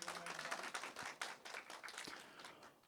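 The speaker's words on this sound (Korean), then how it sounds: "큰 박수 부탁드립니다." Audience at a Suwon mayoral candidates' policy debate clapping to welcome the second candidate, a short, moderately faint run of scattered hand claps that tapers off.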